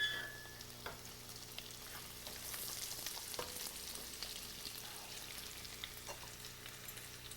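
Garlic fries in a pan for garlic chicken with a soft, steady sizzle. Occasional light stirring taps sound close by, with no voices.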